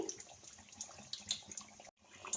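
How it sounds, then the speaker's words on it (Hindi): Frozen kachoris slide into hot oil kept on low heat, giving a steady, close crackling sizzle and hiss that runs unbroken except for one brief gap, with no voices. "जिन कचौरियों को हमने फ्रीज करना है इस तरह से इसे ऑयल में डालेंगे"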